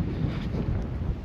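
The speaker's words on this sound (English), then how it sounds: "Fucking wind." Strong wind buffeting the microphone on a hilltop trail in the Faroe Islands, a continuous close, rumbling gust with no pauses.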